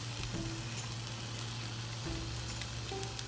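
An egg frying in a pan gives a steady, moderate sizzle with a low constant hum underneath and a few faint clicks, and no one speaks.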